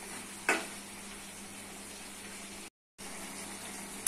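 Potato, tomato and pointed gourd sautéing in a pan give a faint, steady low sizzle, broken by one brief knock and a short silent gap.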